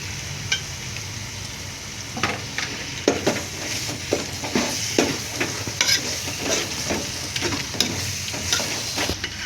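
Beef chunks stirred through softened tomato in a hot pan, a steady close sizzle broken by repeated scraping clacks of a spoon against the metal as the meat fries for a wheat rava biryani.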